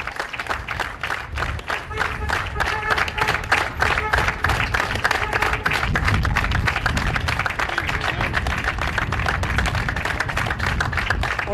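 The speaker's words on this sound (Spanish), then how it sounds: "por eso este aplauso sostenido" Sustained applause from hospital and emergency workers gathered outside Sanatorio Güemes in tribute to a doctor who died of COVID-19, steady rhythmic clapping by a crowd outdoors, with faint talk underneath.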